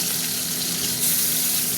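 Three more pieces of rohu fish frying in plenty of oil, a steady bubbling sizzle that swells slightly partway through.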